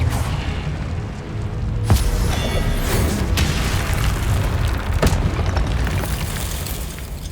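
Booming blasts of an Incendio fire spell in Hogwarts Legacy, several sharp explosive bursts over a dense, rumbling roar of fire and combat effects, loud and continuous.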